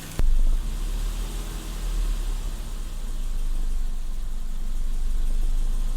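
A BMW engine idling in gear with the RPMs dropping, a steady low rumble with broadband hiss that holds fairly constant after a brief sharp knock at the start.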